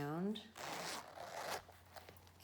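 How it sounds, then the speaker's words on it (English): Zipper running around a Hermes classic long leather wallet in Vert Jade and Chai, a quick, close ratcheting rasp heard beneath a voice as she talks. "It has a zipper, zips around,"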